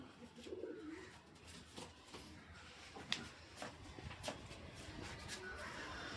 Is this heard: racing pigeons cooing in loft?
yes